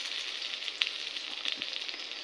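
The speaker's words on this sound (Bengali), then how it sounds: "দেখো বেগুন ভাজা হচ্ছে" Eggplant sizzles and spits in hot oil in a wok, a steady close crackle with a few sharper pops scattered throughout.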